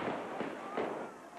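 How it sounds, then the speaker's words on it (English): Fireworks shot off house rooftops at a Spanish festival procession burst in a quick series of muffled booms about every half second, fairly distant and evenly spaced. "fireworks are shot off the roofs of the houses right around the club"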